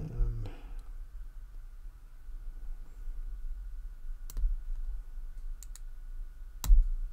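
A lock pick sets pins inside a Bell 30mm brass padlock, producing a handful of faint, sharp metallic clicks spaced irregularly over quiet background hiss.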